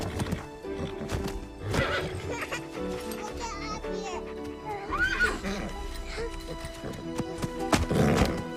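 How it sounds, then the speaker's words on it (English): A horse whinnies among clip-clopping hooves, the neighs rising clearly over an active scene with children's voices and shouting nearby, plus scattered thumps and movement sounds. "I see the horsey."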